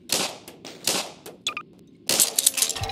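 Several sharp gunshot bursts from a weapon in Garry's Mod, with loud, close cracks scattered in a quick, uneven rhythm and a dense burst near the end.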